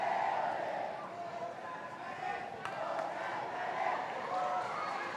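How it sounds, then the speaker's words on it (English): A stadium crowd at a youth football match between Malaysia and Japan roars steadily after a goal, a broad distant wash of cheering that holds for several seconds, with a commentator talking over it. "So the crowd show their appreciation for the goal from Akimula."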